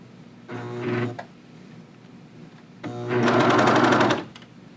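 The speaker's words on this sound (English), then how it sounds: "serging off that 1/4 inch as you sew" A serger runs in two bursts while trimming a quarter inch off a pant cuff, a short whirring run followed by a longer, louder steady buzz, with quiet pauses between.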